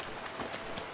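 A horse named Roxas gallops in Zelda Breath of the Wild, its hooves clip-clopping in a quick, even rhythm at moderate volume over a noisy outdoor backdrop.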